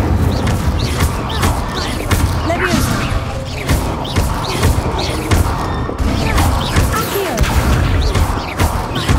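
Fire spell blasts striking a training dummy in a video game, a dense run of crashing, whooshing bursts and thuds repeating every second or so, loud and continuous with a character's voice now and then.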